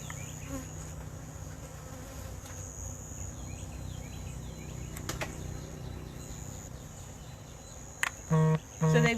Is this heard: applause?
no